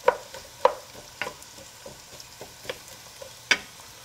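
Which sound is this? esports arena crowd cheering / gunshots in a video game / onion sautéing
onion sautéing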